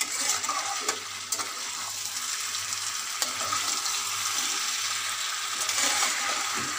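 Marinated chicken korma sautés in a pan with a steady, close frying hiss and occasional clicks of stirring, accompanied by a low continuous hum from the kitchen.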